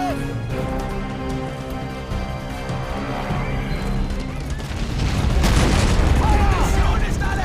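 Artillery fire and explosions in the WWII strategy game Men of War: Assault Squad, a continuous dense rumble of booms and crackling blasts that swells louder toward the end, with a voice speaking underneath.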